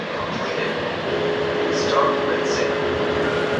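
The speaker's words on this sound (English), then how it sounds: "it turns on this vacuum just for a little bit, so it's over, and that transfers everything" A 3i S10 Ultra robot vacuum's docking station suctions dust out of the robot with a loud, steady whooshing roar that holds constant throughout, with some speech mixed underneath.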